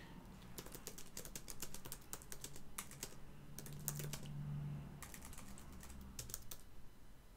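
Someone types a comment on a computer keyboard in quick bursts of soft, close key clicks with short pauses between, alone and quiet.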